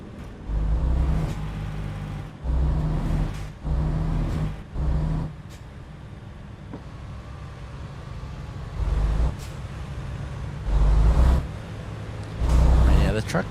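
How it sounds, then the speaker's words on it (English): Truck engine in the American Truck Simulator game revving in repeated loud bursts separated by quieter idling stretches, with someone talking intermittently over it. "The truck don't sound too bad."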